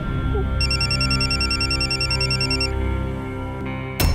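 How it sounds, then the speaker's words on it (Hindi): An electronic phone ringtone chirps in a repeating warble over a steady background hum, then cuts off abruptly. "जतिन, अदिति का फोन है, मैं उठा लूं?"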